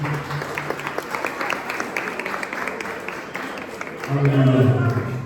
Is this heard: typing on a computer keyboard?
no